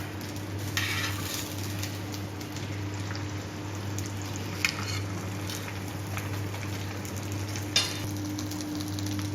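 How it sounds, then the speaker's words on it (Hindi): An aloo paratha fries in ghee on a pan with a steady, soft sizzle and low background hum, broken by two faint clinks. "इसके ऊपर हम थोड़ा सा घी डाल के तो इसकी साइड हम चेंज कर देंगे चिमटे से।"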